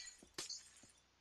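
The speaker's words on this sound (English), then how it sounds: "first, let's shatter the windows." Glass windows shatter in the Minecraft video game while a house is being torn down: one loud crisp burst of breaking glass with a tinkling tail, framed by softer clicks before and after.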